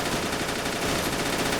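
Dense, continuous machine gun fire from two MG positions during a German infantry push in Men of War: Assault Squad 2, a steady rattling fusillade at even loudness with no pauses.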